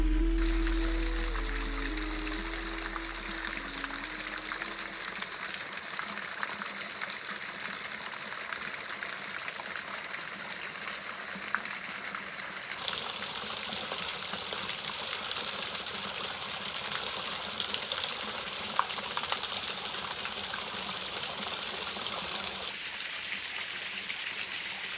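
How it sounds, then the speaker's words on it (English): A creek runs alongside a wilderness backpacking trail in Tennessee, a steady broadband rush of flowing water that fills the whole stretch without pause or voices. "here's the creek we're following"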